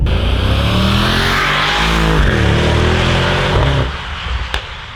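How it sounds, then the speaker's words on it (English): A 2019 Mercedes-AMG GT 63 S four-door with a 639 PS twin-turbo V8 pulls hard up a mountain pass, its loud engine note climbing steadily through the gears before easing off near the end. "This is being pulled up this mountain pass by twin turbo V8, as I said before, with 639 PS."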